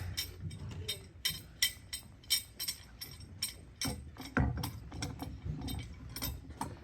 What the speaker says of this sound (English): I'm going to clamp it down approximately where I want it.